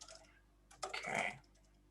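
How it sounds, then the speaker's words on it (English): Soft computer keyboard typing, a few faint key clicks followed by a quick cluster of keystrokes, close and quiet with no talking. "I'm typing R, but I'm not getting an R."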